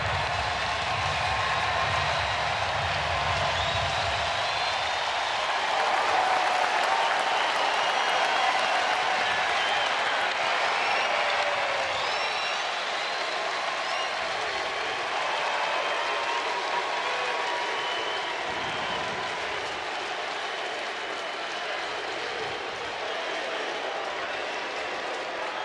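A baseball stadium crowd at an Angels versus Athletics game cheers and applauds in a steady, roaring wash of noise that stays loud and dense throughout, with faint talk underneath.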